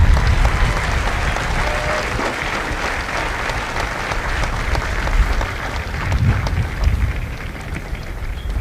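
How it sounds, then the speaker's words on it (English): Large crowd applauding the families of Mike Company at a Marine Corps recruit graduation at MCRD San Diego, a broad, continuous roar of clapping that stays loud and even for several seconds, likely outdoors. "join me in a round of applause for the families of Mike Company"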